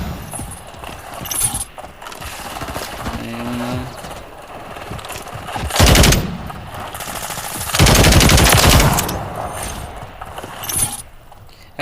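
Automatic gunfire in Call of Duty Modern Warfare 3 multiplayer, with loud bursts near 6 and 8 seconds over a busy game soundscape of footsteps and clatter; no talk.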